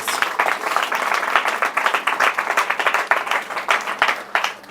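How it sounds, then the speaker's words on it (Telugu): A church congregation claps during a Sunday sermon, a dense, steady round of applause that carries on throughout without a break. "Give the claps to Jesus Christ."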